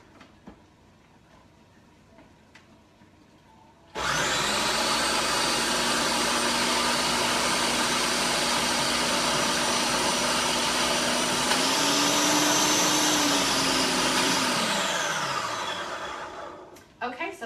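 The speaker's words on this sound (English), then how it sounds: "So I just used the food processor" A food processor mashing cauliflower, starting abruptly after a quiet moment and running as a loud, steady whirring roar for about thirteen seconds, its motor pitch rising briefly near the end before winding down.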